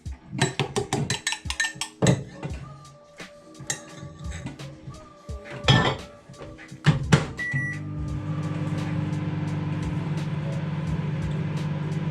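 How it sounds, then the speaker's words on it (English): Clattering and clinks of kitchen items at first, then a microwave oven heating soft plastic lure material starts and hums steadily with a low drone until the end. "give it another blast in the microwave"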